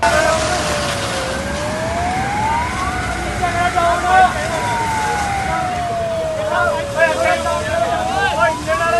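Fire engine siren arriving at a burning Amaze car after a crash near the Dinanagar bypass, its wail rising and falling loudly and steadily throughout, with crowd noise and scattered voices around the roadside scene.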